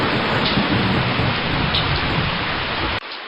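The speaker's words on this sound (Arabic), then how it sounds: "سأذهب إلى غرفتي، فصوت الرعد مخيف جدا" Heavy rain pours in a dense, steady hiss with a deep rumble of thunder beneath it, loud and unbroken before cutting off abruptly near the end.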